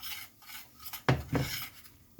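A spoon stirs homemade gravy in a pan, made with milk and cut-up hamburger steak, giving a few soft scraping rubs with two sharper strokes in quick succession.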